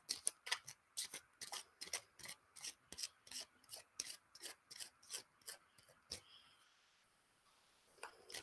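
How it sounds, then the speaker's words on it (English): Rapid, rhythmic riffling of tarot cards being shuffled, about two bursts per second for six seconds, then a pause and a soft rustle; no voices. "shuffle the cards and see what I see"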